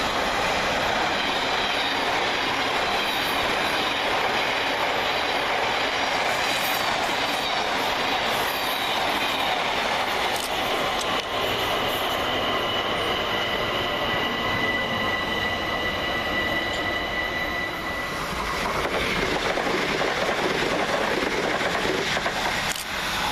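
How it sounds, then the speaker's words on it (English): A London Overground Class 378 electric train pulls into Anerley station, a loud, close, sustained rumble of rolling wheels with rhythmic clicks over rail joints and tonal squeals and whines as it slows, heard without any talking. "378145 arrives with the 1215 London Overground service from Highbury and Islington"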